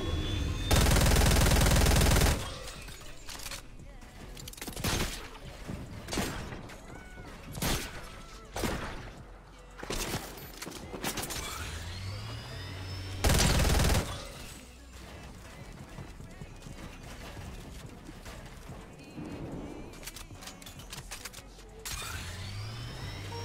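Rapid bursts of SMG gunfire in a shooter video game, loud and repeated in short volleys with crashes and impacts between them, with a few brief bursts of talk.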